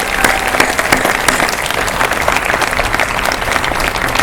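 An audience bursts into a loud, close round of applause, many hands clapping in a dense, steady patter with a few sharper claps standing out, and some cheering voices.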